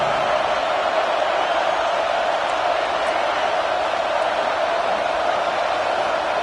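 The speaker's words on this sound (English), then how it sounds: "This crowd unhinged, trying to make sure the Gators don't back down on third down." A stadium crowd in an NCAA college football video game roars as the Gators face third down: a continuous, loud wash of massed voices with no breaks.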